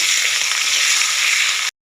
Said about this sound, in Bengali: মশলাটাকে ভেজে নেব।